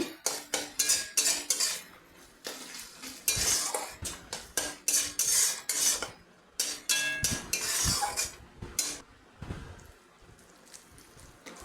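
A spice masala with asafoetida is sautéed in a pan for a raw jackfruit and potato dish. A utensil scrapes and stirs in quick rhythmic strokes with metallic clinks, then stops briefly and resumes.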